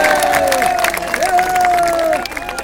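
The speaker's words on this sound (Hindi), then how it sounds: "ताली बजाइए, आपका काम है।" A crowd at a political rally in Uttarakhand applauds and cheers steadily throughout, with clapping mixed with tonal voices or sound from the stage.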